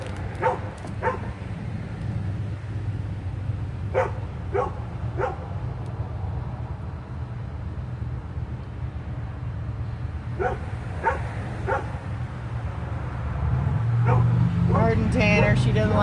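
Dog barking in short sharp bursts, a few barks at a time with pauses, at passing motorcycles, while a person talks nearby and a motorcycle engine rumbles louder toward the end.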